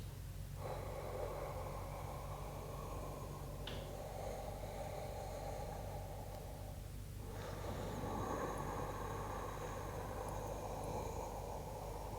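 Yoga breathing practice, with a long continuous stream of audible nasal breaths and sharp sniffing inhales over a steady low background hum, no talking.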